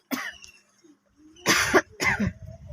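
An older child coughs indoors at home, one short cough followed by two louder harsh coughs in close succession, near and alone.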